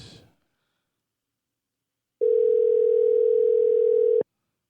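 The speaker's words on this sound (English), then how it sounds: "I've never heard his phone ring that many times." A single long, steady tone of an outgoing phone call rings on the line for about two seconds after a stretch of silence, clear and alone, with a short faint noise at the start.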